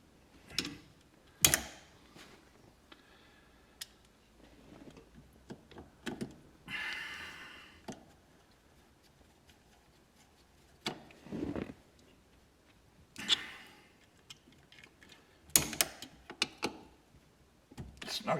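Sheet metal screws are driven by hand into a 1967 Mustang's steering column during a turn signal switch swap: sparse small clicks and creaks close up, with quiet gaps and a few sharper knocks between them.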